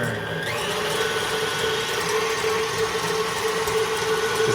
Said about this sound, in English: We got some speedy mixer here. I'm turning it up to the highest